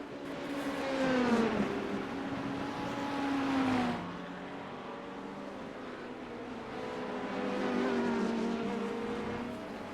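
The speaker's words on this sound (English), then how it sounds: "LMP2 car coming out of the pits." An LMP2 prototype race car in the iRacing simulator, its engine whining loudly as it pulls out of the pits at IMSA, pitch climbing through upshifts with a drop near four seconds and a second sustained rise, no voices.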